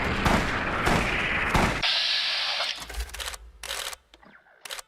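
Rapid bursts of rifle fire using hollow point rounds in Fallout New Vegas, loud and close, then a sharp cutoff into lower rumbling and a few scattered cracks.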